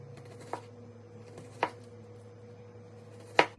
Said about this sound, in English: First, I'm going to start with these onions.